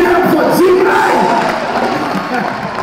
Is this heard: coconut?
no